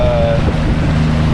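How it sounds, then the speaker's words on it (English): Wind gusting over open water at an oyster farm, a steady close rush of buffeting noise on the microphone with faint tonal hum underneath, continuous through the moment. "I think the wind might be obstructing us a little bit. Yeah, it's getting windy"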